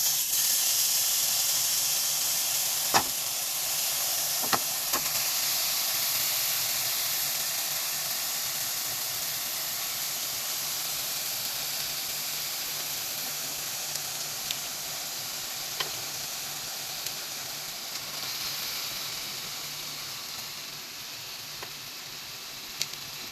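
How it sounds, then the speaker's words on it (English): Turkey sausage frying in a pan over medium-high heat gives a constant soft sizzle and hiss, broken by a few sharp pops and crackles spread across the stretch, with no talking. "So in this pan, I'm going to add my turkey sausage. We're going to cook it."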